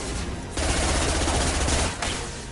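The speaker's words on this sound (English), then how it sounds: "that's a strong SMG right there" Submachine gun fire in Mass Effect 2, a loud close burst of rapid automatic shots rattling continuously for about two seconds, with a brief pause before firing resumes, no talking.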